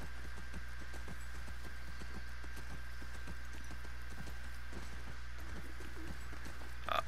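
Horse hooves clip-clop steadily at walking pace in The Last of Us Part II, a regular, moderately loud beat over a low constant hum, with faint bird calls in the background.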